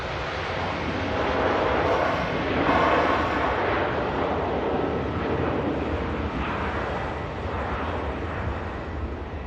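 An airliner departing Manchester Airport for Tenerife South roars through its takeoff run, a broad, loud, rumbling jet noise that swells and then holds steady, with no talking.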